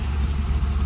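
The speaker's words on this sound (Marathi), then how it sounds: "बघा ट्रॅफिक लागले आता" Heavy road traffic with trucks rumbles in a continuous low, dense roar, a steady engine-and-tyre wash with no distinct events.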